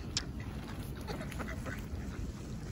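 Wild ducks quack in scattered calls while being fed outdoors after a snowstorm, faint over a steady low rumble of wind or background noise, with no talking.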